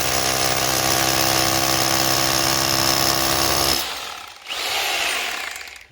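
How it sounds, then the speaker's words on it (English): A loud, continuous SDS hammer drill grinds and hammers through a wall for several seconds, then stops abruptly and briefly spins up again before fading. "we'll put our SDS drill to hammer and drill"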